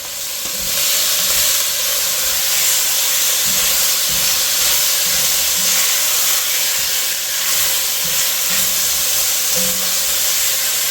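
Onions, garlic, green seasoning and hot pepper frying in a pot, a loud, continuous hissing sizzle that stays steady and close throughout, with faint stirring knocks underneath.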